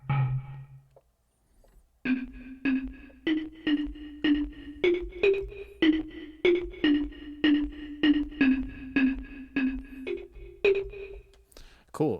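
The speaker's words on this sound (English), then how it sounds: "let's give a little pre-delay on the reverb" A steady run of bright synth tones, about two per second, soaked in reverb with extra pre-delay that gives each note a slight slapback echo; the phrase plays alone and up close after a short quiet start.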